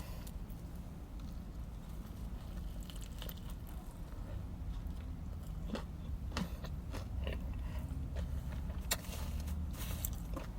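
Someone eats a McDonald's cheeseburger stuffed with french fries, making soft, close, irregular chewing and biting sounds at low volume over a faint background hum.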